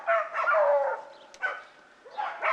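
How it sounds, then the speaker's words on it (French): Fauve de Bretagne hunting dogs bay at a rabbit warren, several close, loud barks in quick bursts, then a pause and a fresh volley. "il aboie la garenne"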